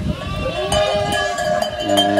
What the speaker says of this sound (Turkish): İyiydi de bozuldu bu çanlar.